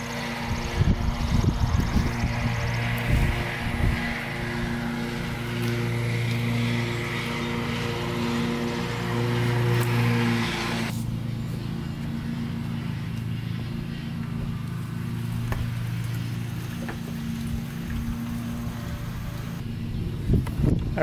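Quad ATV engine, just refitted with a cleaned carburetor and fresh gas, starting up and running at a steady idle with a droning hum; the tone shifts partway through as the revs change.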